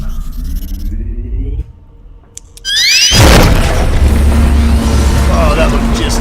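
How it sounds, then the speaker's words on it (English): A door blown open by an explosion in the video game STASIS: sustained mechanical noise, a short quieter lull with rising whistling tones, then a loud sudden boom that settles into a heavy rumbling roar. "Let's blow this door wide open."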